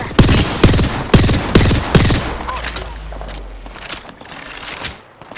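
Bursts of automatic gunfire in a PS5 shooter video game, several sharp loud volleys in quick succession before fading to softer movement and ambient rumble.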